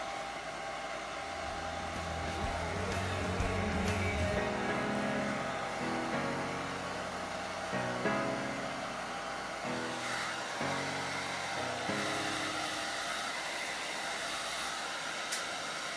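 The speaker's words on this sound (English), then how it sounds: "I always use a hair dryer." A hair dryer drying a painted art journal page blows steadily with a continuous whooshing hum, close and fairly loud, its airflow shifting slightly as it is moved about.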